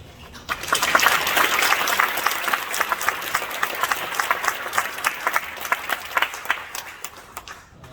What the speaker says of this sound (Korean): 나올 때 한번 박수 좀 많이 주실래요?